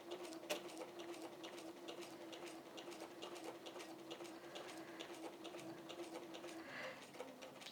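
A quilting machine stitches fabric with a soft, quick, steady mechanical ticking and a low motor hum, faint and continuous with no voices.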